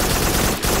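Rapid sustained gunfire in the VR shooter Farpoint, a dense continuous rattle at close range with a brief dip near the end.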